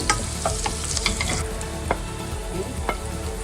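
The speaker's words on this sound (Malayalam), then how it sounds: "ഈ ഇഞ്ചിയും വെളുത്തുള്ളിയും ചേർത്ത് കൊടുക്കും. ഇതൊന്ന് വഴന്ന് കഴിയുമ്പോൾ നമുക്ക് ഈ സവോള ചേർത്ത് ഒന്ന് ഇളക്കി." Ginger, garlic and onion sautéing in a pan for a crab roast, a continuous sizzle broken by repeated scraping and clattering stirs from a spoon, close and fairly loud, no talking.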